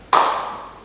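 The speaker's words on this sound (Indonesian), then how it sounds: "kalau saya bilang selamat pagi, kalian silakan tepuk tangan 1 kali." A single sharp hand clap, loud and close, with a short ringing decay in a classroom and no talk around it.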